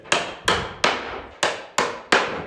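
Six sharp hammer blows knock a wooden shelf panel into place during a shelf build, spaced at an even rhythm. Each strike is loud and close and rings briefly before fading.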